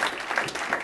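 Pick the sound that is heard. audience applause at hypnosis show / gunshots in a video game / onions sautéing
audience applause at hypnosis show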